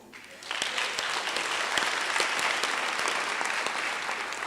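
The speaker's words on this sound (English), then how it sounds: "you tolerated each other such that you deserve a round of applause." An audience at a public hearing in George on the National Veld and Forest Fire Amendment Bill breaks into applause after a quiet start, then sustains dense, steady clapping for several seconds.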